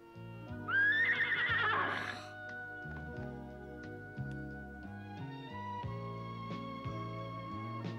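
A horse gives one loud, shrill whinny near the start, then music carries on with sustained notes and no further calls.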